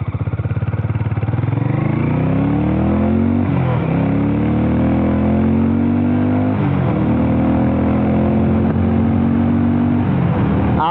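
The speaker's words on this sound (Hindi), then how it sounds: "आप एग्जॉस्ट साउंड भी सुन सकते हो बाइक का" A Harley-Davidson X440 motorcycle accelerates on the road, its exhaust droning loud and close as engine pitch climbs through repeated gear changes, each shift briefly dipping before rising again.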